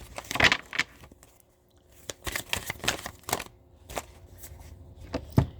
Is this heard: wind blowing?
no